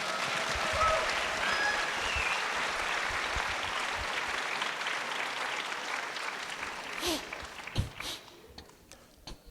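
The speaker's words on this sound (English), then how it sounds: "A big applause for Slavoj." An audience claps steadily for several seconds, applause thinning and fading out toward the end with a few scattered claps and faint voices.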